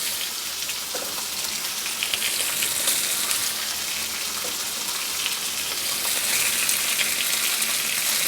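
Fresh, unsalted pork from a home-processed hog sizzles steadily as it renders in a pan, a dense crackling hiss with small pops, close and even throughout with no talk.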